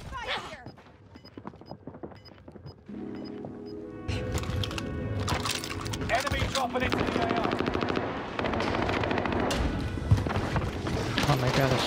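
Rapid bursts of video game gunfire, machine-gun-like and dense, with repeated shots and booming impacts in a shooter match around a cafeteria, loud and continuous, with players talking over it.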